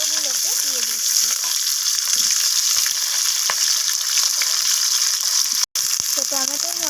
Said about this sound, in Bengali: এই একই তেলেতে আমি কেটে রাখা কাঁচা টমেটোগুলোকে দিয়ে দিচ্ছি।